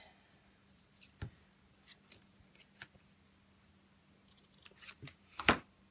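Scissors cutting ribbon at a crafting table, a few soft snips and light handling clicks ending in one sharper, louder cut, quiet and close.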